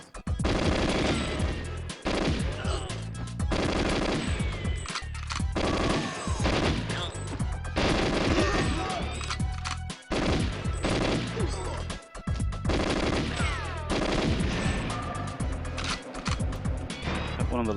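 Rapid automatic gunfire from the N64 game GoldenEye 007 rattles in long bursts with short gaps, loud and close, mixed with game effects and no spoken voice.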